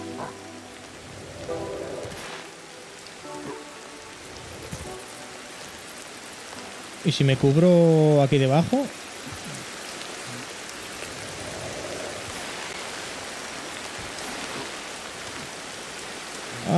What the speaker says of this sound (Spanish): Porque está lloviendo ahora, ¿en serio?